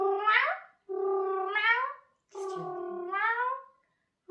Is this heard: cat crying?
yes